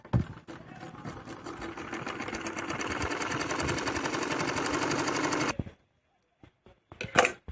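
A sewing machine runs steadily for about five seconds, stitching the seams of palazzo trousers made of plain fabric with a fast, even whir of the needle, then stops, followed by a few faint handling noises.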